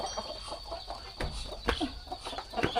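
Chickens cluck close by in a chicken coop, with a duck pen nearby, giving a steady patter of short clucks and a few sharper calls over faint background noise.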